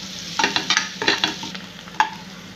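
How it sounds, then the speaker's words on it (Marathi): Coriander leaves sautéed with chilli powder and turmeric in a pan, heard as a few close spoon scrapes and stirring clatters with a faint sizzle underneath, no voices. "कोथिंबीर हे छान असं परतून घ्यायचं"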